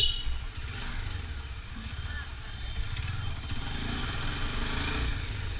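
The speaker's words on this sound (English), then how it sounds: "This is completely a stock bike, and as you can make out, it has a really good grunt." A stock Bajaj Dominar power cruiser motorcycle ridden through traffic gives a steady, gruff engine drone mixed with road and wind rush, heard close throughout.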